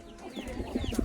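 A chicken clucks a few times up close, short soft calls with rustling and a quiet outdoor background.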